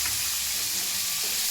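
Green chilies fry in hot oil for an avarekalu dal sambar, giving a continuous dense crackling hiss close up, with no voices.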